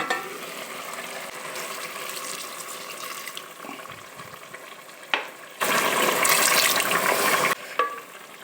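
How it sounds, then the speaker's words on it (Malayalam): Chicken curry sizzling and being stirred in a pan, then a loud rush of hot water poured in for gravy for about two seconds, followed by quieter bubbling; nobody speaks. "അപ്പോൾ നമുക്ക് അതിലേക്ക് ചൂടുവെള്ളം ഒഴിച്ചു കൊടുക്കാം ഗ്രേവിക്ക് വേണ്ടിയിട്ട്"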